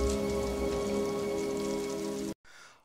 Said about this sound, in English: I wish the rain would stop just once.